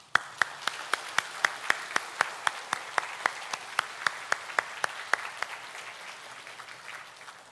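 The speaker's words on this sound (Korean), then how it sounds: "이렇게 우리 서로를 향해서 감사와 격려의 박수를 했으면 좋겠습니다." A church congregation claps in steady unison, roughly twenty crisp, evenly spaced claps in a brisk rhythm, then trails off into softer, looser applause.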